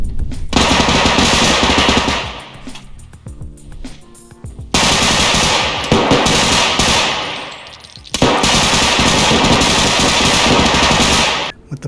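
Loud automatic gunfire from the first-person shooter game Bodycam on PC, firing in three long sustained bursts separated by brief pauses, close and dominant.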